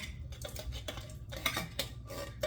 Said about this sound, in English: Let's take a second to stir the pot.